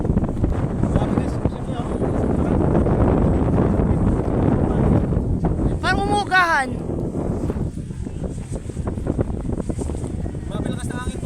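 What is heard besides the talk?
strong wind at windmills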